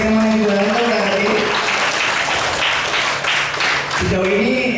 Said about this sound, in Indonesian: Tepuk tangan untuk SMA Negeri Utara B.